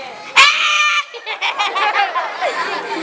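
A child lets out one loud, shrill scream on a Children's Day television show, followed by lively chatter and laughter from the studio.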